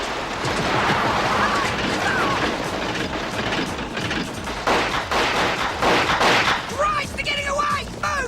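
Rapid gunfire crackles through a chaotic shootout in a 1988 action film, with bursts of shots over revving engines and shouted voices.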